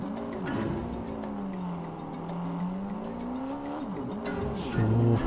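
A car driven in the James Bond 007: Everything or Nothing video game, with a steady engine drone that rises and falls in pitch as it steers and accelerates, with a brief tire-like screech near the end.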